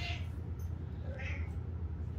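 A pet cat meows twice close by, a short first call and then another a second later, over a low steady room hum.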